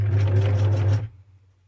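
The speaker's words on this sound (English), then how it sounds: "And I'm trying to sew in the center." Sewing machine stitching down the centre of Christmas tree fabric ruffles, a close rapid whirring run of about one second that stops, leaving a low motor hum.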